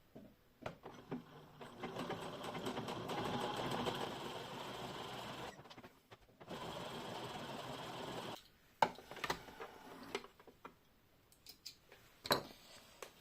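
A domestic sewing machine stitches a dress hem in two sustained runs of fast, whirring mechanical stitching, close by, followed by scattered clicks and handling taps.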